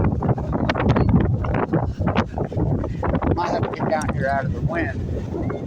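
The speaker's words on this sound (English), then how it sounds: "But no, it's wind." Outdoor wind buffeting a microphone in loud, continuous low rumbling gusts, with a person speaking faintly underneath.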